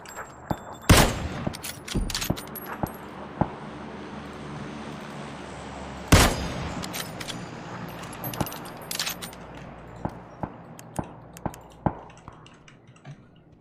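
Cannon fire in a shooter game: two big, sharp blasts stand out, trailed by scattered lighter gunshots and clicks over a quiet, humming battlefield background.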